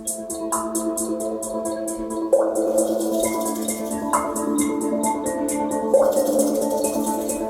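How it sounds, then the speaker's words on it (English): Crisp hi-hat ticks repeat in a quick, even pattern over sustained synth chords that shift every couple of seconds, with no voices. "I'll just create a little pattern here with the hi-hat"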